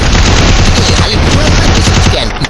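Rapid, loud bursts of UMP submachine gun fire in a mobile shooter game, a dense continuous volley lasting a couple of seconds with no talk over it.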